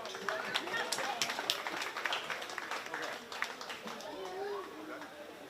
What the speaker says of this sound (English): Give them another great big round of applause as they head back